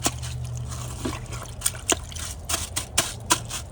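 Close water sloshing and dripping in a Glacier Bay high-efficiency toilet bowl, with soft splashes and trickles in irregular bursts as a grocery bag is pushed under the surface.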